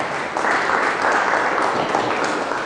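Audience applause welcoming a guest speaker, an astrophysicist, at a lecture on ultra-high-energy cosmic rays; a steady wash of clapping from a room of listeners, moderately loud and sustained throughout.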